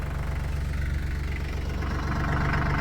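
A Branson tractor engine idles steadily close by, a low, even rumble with a faint knocking pulse running through it and no voices over it.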